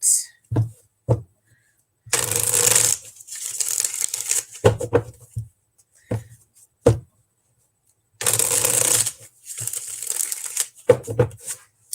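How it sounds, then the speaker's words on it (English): Tarot cards being shuffled for a reading, arriving in several brisk riffling bursts of crisp papery flutter, separated by short pauses and soft handling taps close to the microphone. "Let me get a shuffle here for you for Mike."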